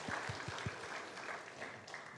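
A church congregation claps faintly and at a distance, a soft diffuse patter with a few low thumps near the start.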